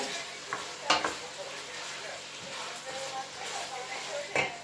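Kavurma meat stirred with a spoon in a pan, a soft steady sizzle of frying with a few sharper scrapes and clinks of the spoon against the pan, close and moderately quiet.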